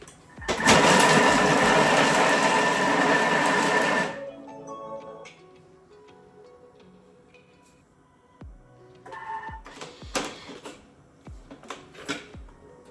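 A food processor chops vegetables for a hearty seven-vegetable soup, starting with a loud, steady whirring burst of about four seconds. After it stops come quieter clatters and knocks from the machine and bowl.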